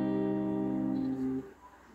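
A single minor chord strummed on a capoed acoustic guitar from the fifth string down, ringing steadily for over a second before being damped, alone with no talking.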